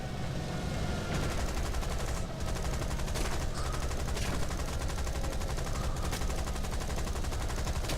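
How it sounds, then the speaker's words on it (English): Sustained gunfire in the War Thunder combat game, dense rapid bursts of shots running continuously through the whole stretch at steady loudness, with brief sharper cracks standing out and no talk. "And of course someone's shooting at me again."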